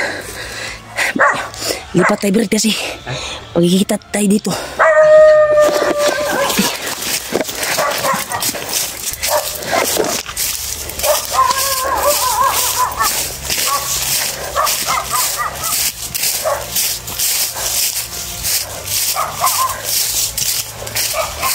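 A pet dog left behind during a narrow escape barks and yelps in bursts, with a short tonal whimper near the middle, heard under steady excited talking and background noise.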